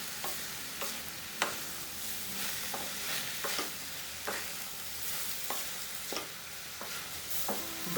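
Vegetables for veg hakka noodles are stir-fried with salt and black pepper, a steady sizzle broken by regular scraping strokes of a spatula in the pan, close and fairly loud with no voices.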